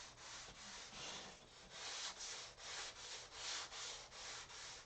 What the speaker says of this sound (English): so it's got to be sanded well